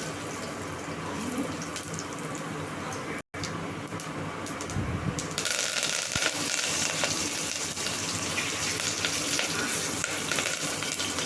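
Garlic and asafoetida frying in a pan of oil for kadhi, a dense, steady sizzle that briefly cuts out, then returns louder and brighter as the ingredients go in.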